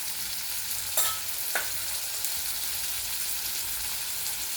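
Garlic, coconut, turmeric and curry leaves fry for soybean bhurji, a soft steady sizzle close by with a few brief spatula knocks.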